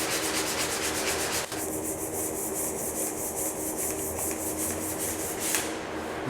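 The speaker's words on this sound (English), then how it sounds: "you'll see that the wood changes as you start to get down to the finer grits of sandpaper" Fine-grit sandpaper rubbed over wood by hand, a close, steady rasping swish in even back-and-forth strokes that continues without pause and stops briefly near the end.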